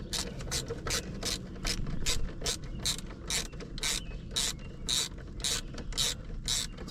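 A ratchet tightens E-Torx bolts on a Pontiac Fiero GT tilt steering column, with a quick, steady run of close, crisp clicks repeating evenly and no voices.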